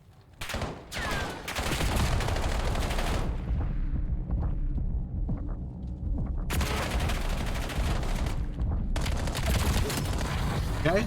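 Rapid automatic gunfire in the Black Ops 7 video game comes in loud, dense bursts, with a quieter stretch of scattered distant shots between them.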